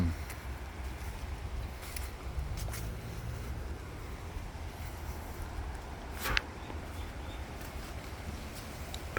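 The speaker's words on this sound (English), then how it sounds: "it's windy, windy, windy." Steady wind gusts through a rear fruit garden in early winter, a continuous broad rush of air with low rumbling buffeting against the microphone, a sharper gust near the middle, no voices.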